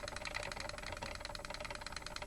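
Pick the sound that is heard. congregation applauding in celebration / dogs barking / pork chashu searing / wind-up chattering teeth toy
wind-up chattering teeth toy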